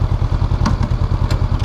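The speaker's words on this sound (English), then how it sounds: "Guess I might as well put it in gear, huh?" Honda CB500F motorcycle running as it is ridden and put into gear: a steady, throbbing low engine pulse close to the mic, with a few faint clicks and clunks over it.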